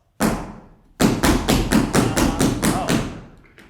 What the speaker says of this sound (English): You finally get to let your full foot hit the ground. It's called a stamp.